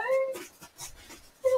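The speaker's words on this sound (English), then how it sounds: "why is my dog barking?" A dog in the background gives high, drawn-out whimpering whines, one at the start and another near the end, with scuffling and breathy sounds between.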